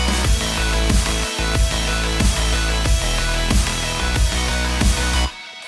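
Full drop of an electronic bass track, dense layered synths and heavy bass under punchy blended snares and kicks in a steady driving rhythm, loud and continuous before cutting off abruptly near the end.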